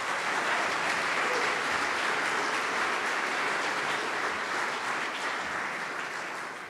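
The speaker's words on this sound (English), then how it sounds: "Let's give them a hand." Sustained applause from a conference audience, steady and dense throughout, loud and continuous, tapering slightly at the very end.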